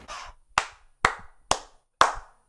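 A single person claps five times at an outdoor park basketball court, sharp, close slaps spaced roughly half a second apart with brief ringing decay after each.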